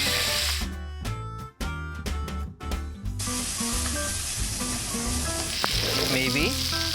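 Salmon fillets sizzle and crackle in a hot pan on a countertop, a loud continuous frying hiss broken by brief dips as the fish is moved, with clinks and soft music underneath.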